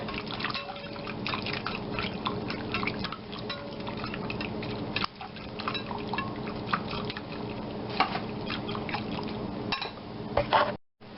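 Whisk beating a cheese soufflé base smooth in a bowl, a steady stream of quick metallic clicks and wet scraping sounds, close and moderately quiet, stopping abruptly at the end.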